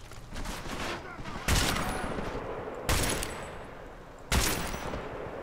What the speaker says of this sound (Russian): О, два выстрела и не убил.